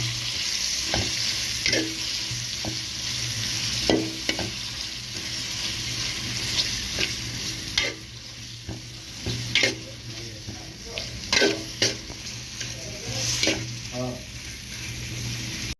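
Spoon stirring and scraping in a pan of pumpkin curry with salt and turmeric over steady frying sizzle, with irregular clinks and taps throughout at close range.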